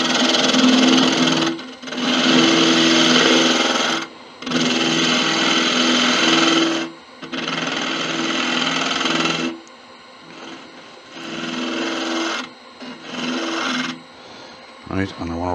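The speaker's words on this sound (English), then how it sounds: "I want to sand and finish that" Rasping bursts of sandpaper against a spinning Malaysian acacia sapwood napkin ring on a wood lathe, coming in several long passes of a few seconds each with short pauses between, close and fairly loud.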